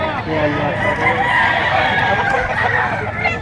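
Chicken sounds at a busy livestock market in Lipa, Batangas, with a full stag rooster among the birds. Clucking and crowing rise steadily over a loud, crowded din with people talking nearby.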